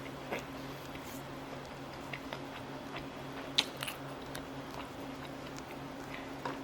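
Sliced grilled meat chewed close up, eaten in big bites: soft, quiet mouth sounds with a few small crunches and clicks over a low hum.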